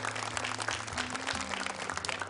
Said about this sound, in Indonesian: Boleh tepuk tangan sekali lagi untuk Fatma